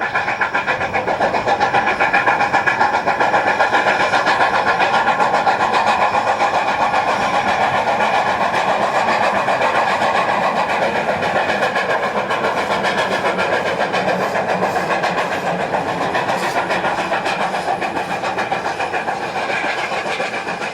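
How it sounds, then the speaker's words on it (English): Grand Canyon Railway steam locomotive 4960 on its 1996 first test run after rebuild, giving off a steady, loud rumble and hiss that continues without a break and sits close by. "As the day wore on, the locomotive was operated faster as more successful moves were completed."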